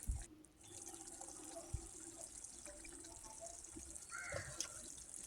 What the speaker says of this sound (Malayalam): അപ്പോൾ നന്നായിട്ട് തിളച്ച് പറ്റി വരുന്നുണ്ട്